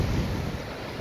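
Water lapping at a lake shore in Spain, a steady broadband wash with wind noise on the microphone, continuous and fairly close throughout, with no voices.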